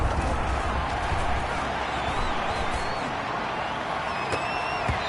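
Football stadium crowd on a third-down play, a steady broad roar of many voices filling the whole stretch at even loudness, with faint whistles and shouts rising over it.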